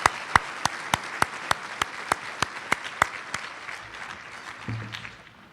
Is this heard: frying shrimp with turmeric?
no